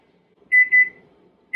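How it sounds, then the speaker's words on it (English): A kitchen timer going off with two quick shrill beeps followed by another beep at the end, clear and alone in an otherwise quiet kitchen. "You can hear our timer is going off."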